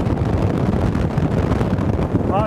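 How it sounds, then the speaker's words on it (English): Loud, continuous low rumble of strong wind buffeting the microphone at a waterfront on Prince Edward Island, gusting slightly but never letting up. "on this extremely windy day"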